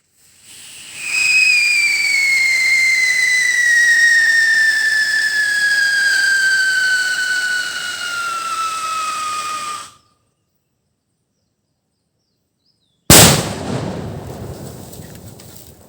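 A two-stage whistle rocket firework shrieks loudly for about nine seconds, its whistle sliding steadily downward in pitch, then falls silent before a sharp, booming burst goes off and trails into crackling noise.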